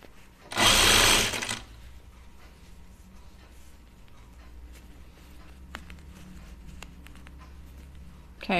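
A sewing machine stitches a seam in one brief, loud whirring run of about a second, followed by quiet room tone with faint handling clicks.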